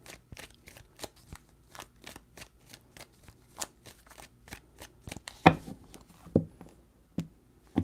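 Tarot cards are shuffled by hand in a series of quick, crisp riffling bursts, close and fairly quiet, with a slightly louder flurry of shuffling toward the end.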